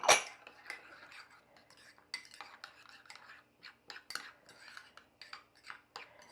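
Mustard powder from freshly ground mustard seeds and soy sauce being stirred together in a bowl, a spoon clinking and scraping against the sides in irregular close taps with no talking.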